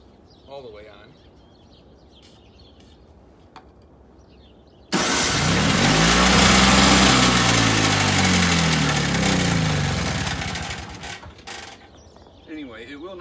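Snow blower engine running with the choke fully on, a loud rough mechanical roar that starts abruptly and holds steady for several seconds before faltering, with quieter background sounds around it.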